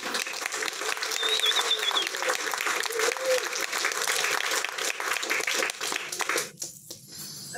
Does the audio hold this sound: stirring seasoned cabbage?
no